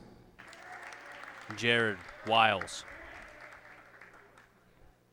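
Crowd applause for senior athletes at a high school basketball senior night in a gym, a steady wash of clapping running under an announcer's voice calling names.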